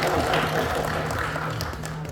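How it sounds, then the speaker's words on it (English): Audience applause at a bar-industry talk show, a steady dense wash of clapping sustained at even loudness for about two seconds, with a faint low hum beneath. "Please give them a round of applause"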